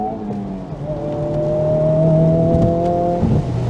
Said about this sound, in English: the new FL5 has some very distinctive fake engine noise